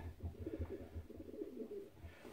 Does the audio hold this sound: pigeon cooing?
yes